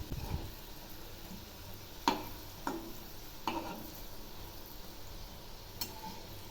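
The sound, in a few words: jackfruit pakoras being flipped and frying in oil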